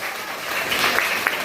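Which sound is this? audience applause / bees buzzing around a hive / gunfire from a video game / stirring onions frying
audience applause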